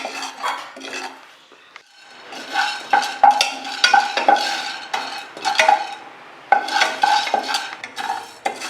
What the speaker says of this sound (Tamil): சீரகம், மிளகு, வெந்தயம் ரொம்ப வறுக்கவே வேண்டாம்